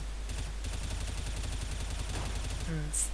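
An M4 rifle fires in the video game CS:GO on the Dust2 map: a rapid, even string of sharp shots lasts about two seconds, then a voice speaks briefly.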